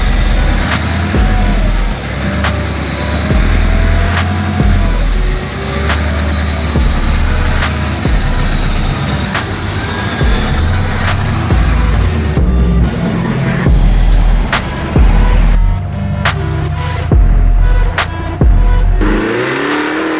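A '70 Chevelle with a twin-turbo Duramax diesel drives along, heard from inside as a loud, continuous engine roar with road rumble. The pitch rises as it pulls harder, and the engine surges near the end.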